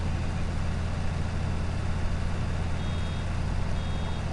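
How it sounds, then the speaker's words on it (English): A baler in the Farming Simulator 19 game beeps faintly and repeatedly to warn that it is nearly full. The beeps sit over a loud, steady tractor engine drone that runs throughout. "beeping sound means it's nearly full"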